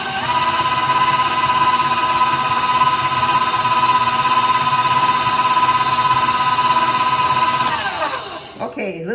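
Electric mixer creaming sugar into pound cake batter for a peach cobbler crunch pound cake, a steady loud motor whine that holds for about eight seconds, then winds down and stops near the end.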